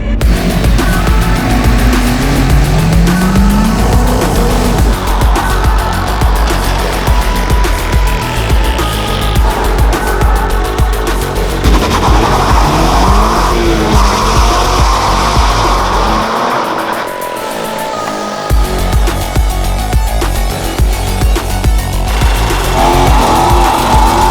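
A Toyota GR86 on its way to a track in Toruń, its engine droning loud and steady throughout with some tire noise, briefly dropping away for a moment near the end before resuming.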